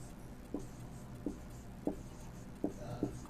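A pen scratches on paper while a maths equation is worked out by hand, making five short, faint, separate strokes spread evenly over a quiet background.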